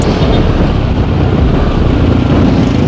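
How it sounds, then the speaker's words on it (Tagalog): Loud, constant wind roaring and buffeting the microphone while riding a Suzuki Burgman Street 125 scooter, a dense rumbling blast with no pauses. "Lakas ng hangin."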